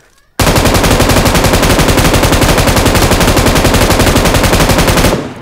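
An M249 machine gun fires in a video game recoil test, one loud, unbroken rapid burst of shots lasting about five seconds before cutting off.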